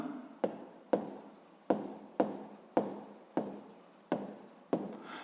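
A pen writing in a notebook during a sixth-grade math exercise, eight evenly spaced scratchy strokes, each a sharp tap fading into a short scrape, close and quiet with no talk.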